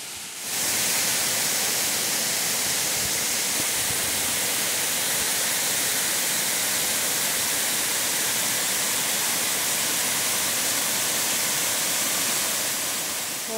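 A waterfall near Bananal, São Paulo, pours in a loud, steady broadband rush that starts abruptly and holds without a break for the whole stretch.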